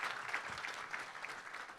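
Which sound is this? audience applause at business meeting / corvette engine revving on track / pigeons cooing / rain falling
audience applause at business meeting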